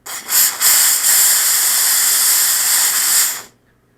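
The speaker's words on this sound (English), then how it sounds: "Watch this with the steam gun." A steam gun hisses in a loud, continuous blast against dented foam on an RC plane, a Volantex FPV Raptor V2, with a couple of short bursts at the start before one long jet that cuts off sharply.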